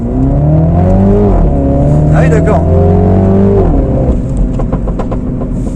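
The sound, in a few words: Mini John Cooper Works F56 engine revving with exhaust pops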